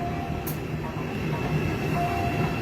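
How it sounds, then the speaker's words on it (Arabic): A Korean-made metro train rumbles steadily through a station, with a sustained low roar, faint wheel squeal and a brief high screech early on. "انا عايز اقول لكم ان المترو ده اللي هو ده"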